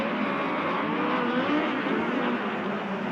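USAC race cars scream around the track at Bakersfield during the November Classic, several engines blending into a steady, high revving drone in close quarters racing, heard from a distance without voices.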